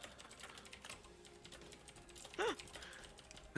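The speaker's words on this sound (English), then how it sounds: "angry typing." Fast, forceful typing on a computer keyboard, quiet clacking keystrokes in uneven bursts with one sharper louder strike, heard faintly beneath low background voices.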